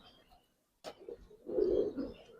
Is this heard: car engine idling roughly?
no